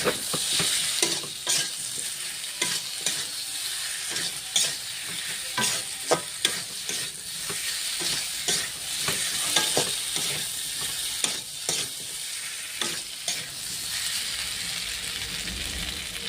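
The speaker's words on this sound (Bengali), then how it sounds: "আলুটাকে ভালো করে কষাচ্ছি, একটু তেল ছাড়বে" Potatoes stir-fried in oil with a paste of onion, chili and tomato, a continuous bright sizzle broken by repeated scraping and stirring strokes of a spatula against the pan, close and fairly loud with no talking.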